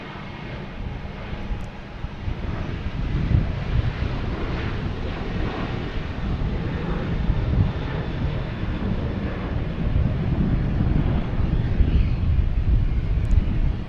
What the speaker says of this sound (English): We have United Airlines taking off, heading to Dulles, 737-900.